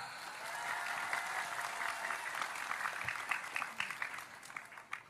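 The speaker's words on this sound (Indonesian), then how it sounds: "Tepuk tangan Pak Lurah." Applause from an audience at an Indonesian religious gathering, steady dense clapping held at a moderate distance for the whole stretch, with a few louder individual claps near the end and no talk over it.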